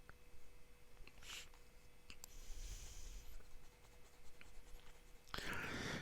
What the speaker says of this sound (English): The next pen is Visconti Homo Sapiens Caput Mundi. So we'll do an ink swatch.